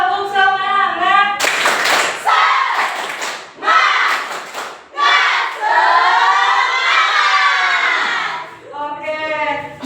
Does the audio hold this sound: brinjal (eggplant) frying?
no